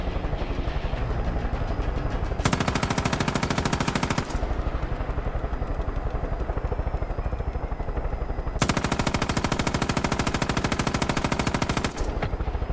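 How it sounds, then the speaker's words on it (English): Rapid automatic gunfire from the Far Cry 5 video game, two long sustained bursts of loud, close machine-gun fire with steadier in-game noise between them, no talking. "I get a little crazy with the guns on this thing"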